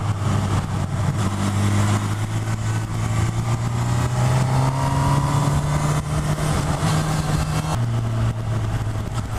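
A 2018 Honda CB1000R ridden through corners, its engine and 4-2-1 exhaust giving a loud, steady droning note that climbs slowly in pitch, dips briefly as a gear shifts near the end, then settles again.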